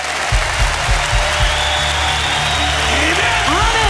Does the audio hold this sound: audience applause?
yes